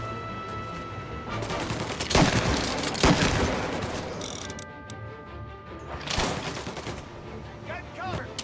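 Gunfire from the video game Mafia: Definitive Edition, with repeated loud shots and bursts spread through the scene, a few heavy cracks standing out among the volleys.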